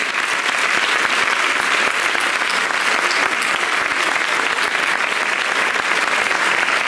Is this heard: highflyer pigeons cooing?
no